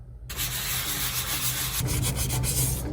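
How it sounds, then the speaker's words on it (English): Continuous rough rasping of sandpaper rubbing wood, loud and close, with the stroke changing texture partway through. "Maybe I'll spend half the day sanding."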